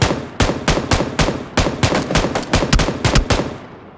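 An SAW light machine gun fires in PUBG, a loud, close stream of rapid sharp bursts in quick clustered volleys with short gaps, no talk over it.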